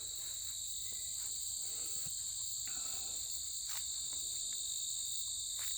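Insects singing steadily in a regenerating old field in fall, a dense continuous chorus of high-pitched cricket-like trilling with a few faint incidental rustles and clicks beneath it, no voices.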